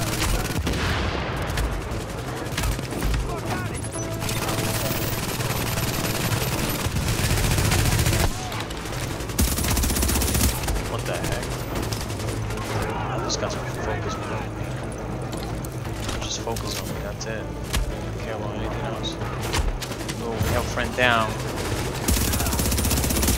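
Gunfire in the shooter game Tom Clancy's The Division on Xbox One: repeated rapid bursts and single shots, some loud and close and others more distant, over continuous game background sound.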